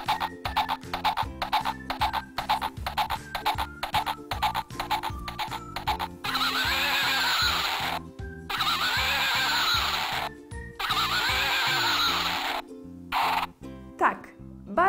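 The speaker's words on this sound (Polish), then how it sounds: "To był koń." A horse whinnies in several drawn-out bursts, loud and near, following a stretch of rhythmic tapping and plucked music.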